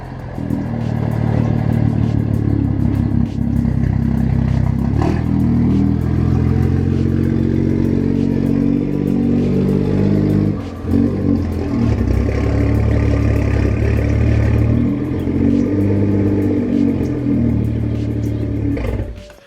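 A warm BMW 335i engine runs loud and close, a deep rumbling idle with brief revving swells and a dip in the middle.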